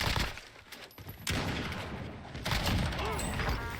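Gunfire in the battle royale shooter Warzone, a dense, loud burst of rapid shots and impacts that stops briefly and resumes, with game effects and faint voices mixed in.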